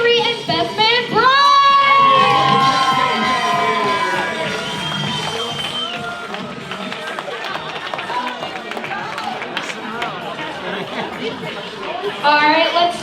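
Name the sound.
wedding guests cheering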